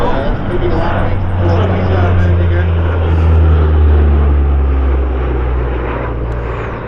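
An RCAF CP140 Aurora four-engine propeller patrol aircraft roars past at the Comox airshow, a loud, broad droning rumble that swells toward the middle and then slowly fades.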